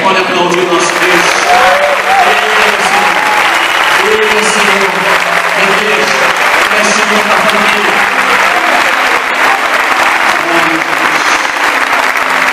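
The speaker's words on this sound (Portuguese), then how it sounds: "Você pode aplaudir o nosso Deus." A church congregation applauds steadily and loudly for about twelve seconds, with voices calling out and cheering over the dense clapping.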